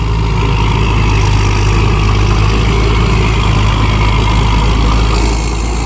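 The engine of a crawler tractor works a muddy rice paddy, a loud, steady, close mechanical rumble that runs unbroken for the whole stretch with no talk.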